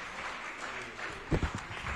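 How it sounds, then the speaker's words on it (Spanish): Applause for a ballet company rehearsing a stage production, a soft wash of crowd clapping with a few louder, closer claps near the middle, slightly distant overall. "Aplausos, por favor."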